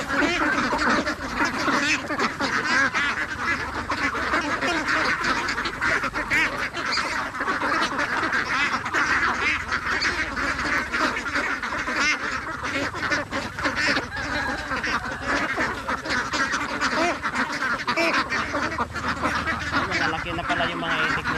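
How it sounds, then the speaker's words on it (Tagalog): Ducks quack continuously and loudly for about twenty seconds, a busy overlapping flock nearby, with people talking over them. "yung mga itik nila dito guys."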